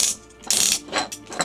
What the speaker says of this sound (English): look at these ratchets here for the shoulders